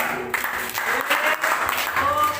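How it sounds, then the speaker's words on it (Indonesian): Classroom applause for a student, a steady wash of clapping from the class lasting the whole moment, with a few voices mixed in. "Berikan tepuk tangan untuk dia."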